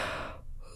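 A young child gives a big, breathy yawn, a soft drawn-out airy sound heard alone and close.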